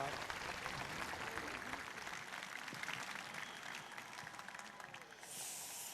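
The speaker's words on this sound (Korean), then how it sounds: "다시 한번 큰 박수 보내드리면서" A large audience at a Korean national appointment ceremony applauds continuously in a dense, steady wash of clapping that holds for several seconds before abruptly giving way to a hissing tone near the end.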